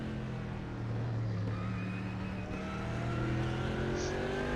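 A BMW GT3 race car engine in a sim racing game at Zandvoort, droning loud and steady as it holds and slowly climbs in revs, with no talk over it.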